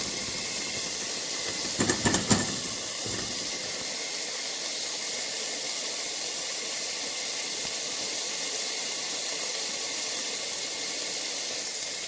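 Continuous soft sizzling hiss of garlic frying in hot ghee, with a few brief clinks near the start and no talking.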